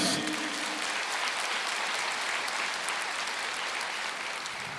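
A church congregation applauds during a sermon, a dense, steady burst of clapping that fills the whole moment and stays loud to the end.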